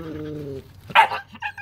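A husky and an Australian Shepherd puppy make a drawn-out whining yelp, then a sharp nearby bark and short yips, with household background noise.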